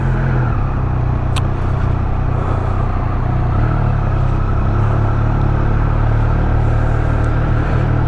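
A Triumph Speed Triple RS naked motorcycle rolls through town traffic in first gear, its engine a steady low rumble that holds loud and close throughout, with wind noise layered over it.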